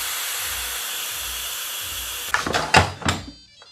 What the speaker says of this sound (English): As you can see, it's boiling.